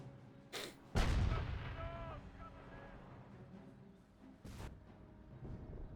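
Artillery and tank gunfire in the Company of Heroes strategy game: a sharp shot followed by a heavy booming blast that rumbles away, with a later second crack and faint battlefield noise and chatter behind.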